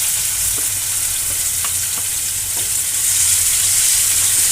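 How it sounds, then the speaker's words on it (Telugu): Finely chopped onions with green chilies fry in oil in a pan, a loud steady sizzle broken by occasional light clinks of a stirring utensil. "వీటిని వీటిని మంచిగా ఫ్రై చేసుకోవాలి."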